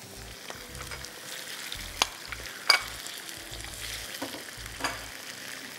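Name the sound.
chicken frying in oil in a karahi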